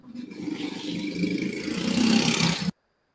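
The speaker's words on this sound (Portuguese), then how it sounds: "Passou uma moto aí." A motorcycle passes outside, its engine drone swelling to a peak and then cutting off abruptly, heard faintly and steadily from a distance.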